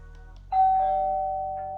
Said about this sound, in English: Yeah, the chime's actually working.